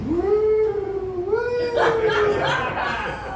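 A person's voice imitates a horse with a long, rising and wavering whinny-like call, drawn out over a few seconds and fairly loud.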